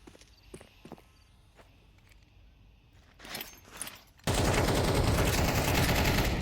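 Gunfire and grenade blasts in a Counter-Strike match on the Inferno map: scattered footsteps and sparse clicks, a couple of mid-level bursts, then a sudden loud sustained wash of fire and explosions filling the final two seconds.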